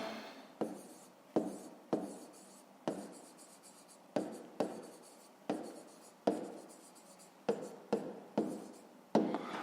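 A pen writes on paper close up in quiet surroundings, with a series of short scratchy strokes separated by brief pauses, about a dozen bursts in an uneven rhythm.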